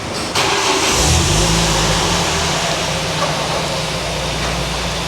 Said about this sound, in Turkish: Arabanızın sesini duyalım şimdi